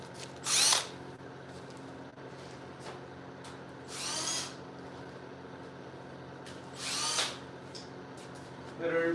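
A wire brush spun by a power drill cleans metal parts of a scooter in three short, loud, whining bursts, spaced several seconds apart, over a low hum.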